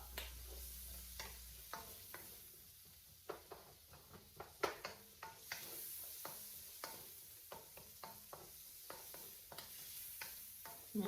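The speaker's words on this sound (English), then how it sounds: "But today I'm adding just green peppers and onions." Green peppers and onions stir-frying in coconut oil, a quiet background sizzle punctuated by frequent rhythmic clicks and scrapes of a utensil tossing them in the pan, with no voices.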